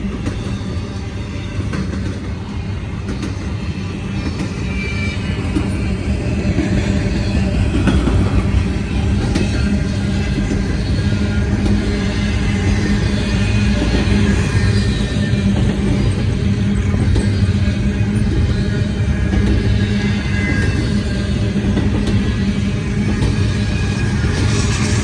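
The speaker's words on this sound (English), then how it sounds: "Looks like a pretty good sized train." A long freight train with seven locomotives and mid-train distributed power units rolls steadily past at Logistics Park in Elwood, Illinois, a loud continuous rumble of wheels and wagons with faint clicking throughout, no talk.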